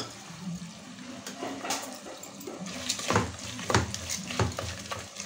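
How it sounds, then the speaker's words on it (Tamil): Tomatoes are sautéed with salt in a pan and stirred. Soft frying runs underneath while a utensil scrapes and clatters irregularly against the pan, getting louder toward the end. "நல்லா உப்பு போட்டு வதக்கிக்கோங்க, அப்போ நல்லா சாஃப்ட் ஆகிடும்"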